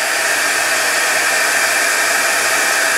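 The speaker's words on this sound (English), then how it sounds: "just a heat gun will get it soft enough that" A heat gun blasts a steady, loud, unbroken hiss of airflow while softening encaustic wax, with no voices over it.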